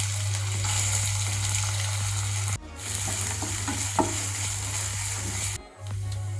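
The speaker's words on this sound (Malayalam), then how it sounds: "അതിലേക്ക് കുറച്ച് എണ്ണ ഒഴിച്ചു കൊടുക്കാം. ഇഞ്ചി, വെളുത്തുള്ളി ചെറുതായിട്ട് അരിഞ്ഞത് നമുക്ക് ഇട്ട് കൊടുക്കാം." Chopped ginger and garlic frying in oil in a pan, a steady close sizzle with occasional stirring scrapes and two brief drops in the sound.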